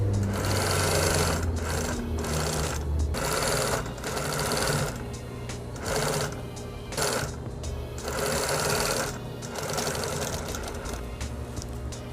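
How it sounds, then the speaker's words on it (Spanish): Sewing machine stitching around the edge of a fabric wallet, a close, loud rapid whirring in repeated bursts separated by short pauses as the seam goes around. "colocamos cara a cara y cosemos a todo el contorno 1 centímetro"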